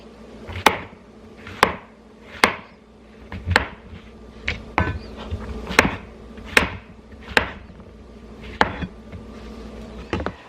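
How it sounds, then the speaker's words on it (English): A knife slices mushrooms on a cutting board in a slow, steady series of about a dozen sharp thuds, close and distinct, with no talking. "I'll be right back when we're chopping."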